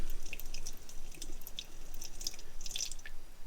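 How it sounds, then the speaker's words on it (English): A teardrop camper's sink faucet, fed by a pump from a 5-gallon water tank, keeps trickling after the pump shuts off, with faint, irregular drips and splashes over a quiet background. "this faucet trickles. Yeah, it trickles for a couple seconds afterwards"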